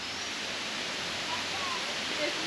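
A waterfall in Sri Lanka, a steady broadband rushing roar heard close and continuous, with no break or change in intensity.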